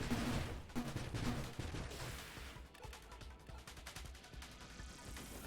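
Rapid weapon shots and meteors bursting apart in the space shooter game Nova Drift, a dense steady barrage of small blasts and impacts over game noise, continuous and moderately loud throughout.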